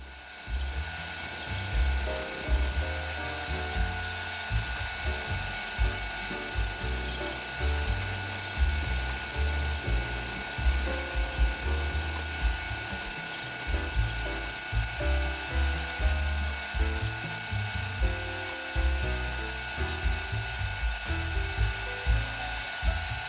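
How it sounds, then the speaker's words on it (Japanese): Two-flute end mill enlarging a hole in the main frame of a live steam locomotive, a steady machine whine with a repeating chattering, ratcheting cut, close and continuous over about twenty seconds without talk. "このため2枚刃のエンドミルを使いました。"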